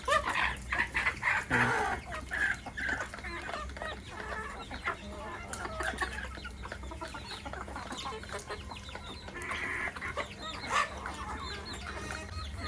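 Desi naked-neck chickens cluck on a rooftop during the rainy season, a busy run of close clucks and calls that is loudest at the start, then settles into steadier background clucking.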